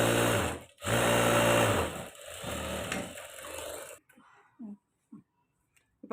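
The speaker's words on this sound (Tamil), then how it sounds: "இப்போ நான் இன்னும் ஒரு 2 தையல் போட்டுறேன்." A sewing machine stitches a princess-cut blouse, running loud and steady in a few continuous bursts with a brief pause, then stopping abruptly before several short quiet clicks and handling sounds.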